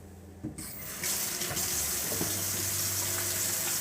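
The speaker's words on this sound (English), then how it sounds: "Let's wash my hands up, and then we're going to make some cookies." A tap runs steadily into a sink while hands are washed. The water starts with a few splashes, then settles into a loud, continuous gush for the rest of the clip, with no talking.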